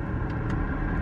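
A car engine idles while warming up on a cold morning, a steady low rumble heard from inside the vehicle, with no talking.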